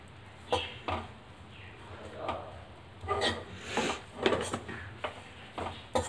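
Gram flour being stirred and roasted in hot ghee with a spoon in a pan while making milk besan halwa, giving repeated scraping and rasping strokes at an uneven rhythm, close and moderately loud.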